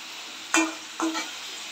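Fish belly pieces sauté in a pan under a low, steady sizzle, broken by two short scraping stirs about half a second apart, close by and without talk.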